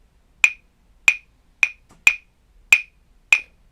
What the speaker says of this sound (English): I'm going to demonstrate on this instrument called the claves